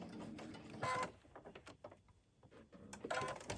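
A sewing machine stitches rows of a table runner in short bursts, its mechanical whirring starting and stopping with quiet handling noises and pauses between runs.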